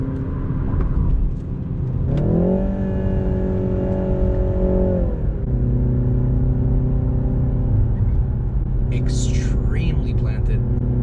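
Engine of a BMW 330i xDrive hums steadily inside the cabin as the car takes a corner coming off the highway, with the pitch rising and then settling lower, and a person talking over it.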